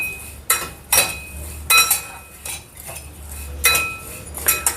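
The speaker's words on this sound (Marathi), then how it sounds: "ओवा घेतलेला आहे मी हा पण टाकूया याच्यामध्ये आणि याला हलकं भाजून घेऊया" Ajwain seeds dry-roasting in a pan for homemade chaat masala, heard as sharp metal spoon clinks and scrapes against the pan in irregular bursts over a quiet background.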